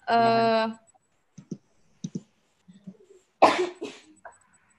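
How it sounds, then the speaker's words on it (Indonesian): A single harsh cough bursts out near the end, following a sustained hum and a few scattered clicks and taps. "Batuk."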